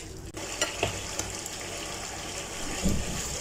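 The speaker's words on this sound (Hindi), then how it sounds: "दही डालने के बाद इसको 5-7 मिनट के लिए फिर से भून लेंगे।" Masala cooked with yogurt for chicken kofta curry fries in a pan with a soft, steady sizzle, a few utensil scrapes and a bubbling swell near the end, moderately close and without speech.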